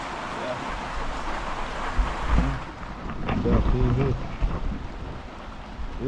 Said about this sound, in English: Rain out there, peeps. Rain and thunder and lightning.